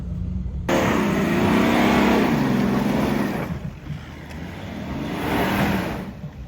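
Off-road car's engine revs hard and continuously while it struggles to climb a hill during a ring race with special stages, loud and close, easing midway then surging again.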